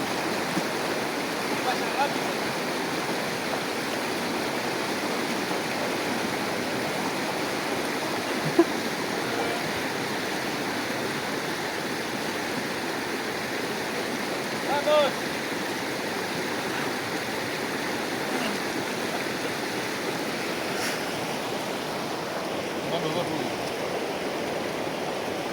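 A river rushes in a steady, broad wash of flowing water, loud and close, while people cross it, with occasional faint talk beneath.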